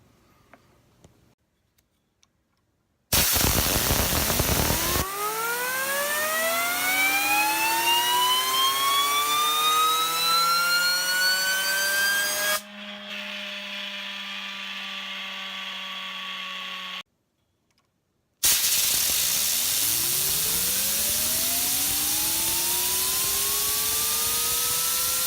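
A Circulator fidget spinner by 2R Designs whirs loudly with a steady tone whose pitch rises in sweeping glides. The sound cuts out abruptly, returns with a different, lower texture, then starts again after a brief silence.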